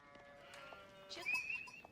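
A sheep bleats in the Age of Empires real-time strategy game, one short, fairly faint bleat rising near the end over quiet game ambience.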